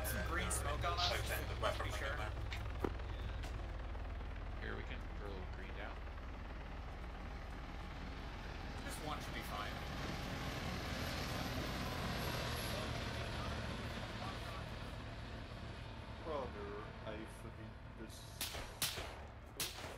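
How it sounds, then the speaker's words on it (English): Helicopter drifting overhead in the military game ArmA 3, a steady rotor-and-engine roar filling the scene throughout, with brief gunfire-like cracks and players talking over it. "Well, look at that heli. Drifting."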